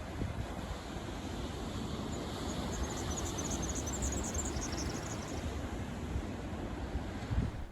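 Ocean waves crash and wash continuously on a windy shore, a broad steady roar with wind buffeting the microphone. Faint high bird song sits above it.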